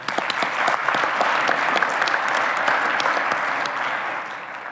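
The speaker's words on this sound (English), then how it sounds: "big round of applause" Sustained audience applause fills a hall at the final tournament of the 2017 Battlecode programming competition, a dense wash of many hands clapping close and loud for the whole stretch, easing slightly toward the end.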